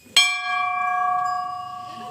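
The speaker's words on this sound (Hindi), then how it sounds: "इतना बड़े घंटी" A single loud strike of a large temple bell, its clear metallic tone ringing on and sustaining with a slow pulsing hum.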